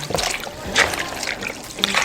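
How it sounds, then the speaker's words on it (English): A curly wig is dipped into a bowl of water, soft close sloshing and small splashes with dribbling water, under a woman's speech. "You dip the hair into the water"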